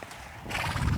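A horse named Yankee snorts and whinnies over shuffling hoof sounds during a ground-training session, a brief, close burst with no talking.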